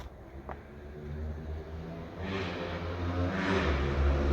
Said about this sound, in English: There goes the motorbike again.